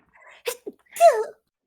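A single sneeze erupts during a tabletop role-playing session, preceded by a short sharp intake of breath and a quick catch, then a loud voiced burst trailing off, close and alone.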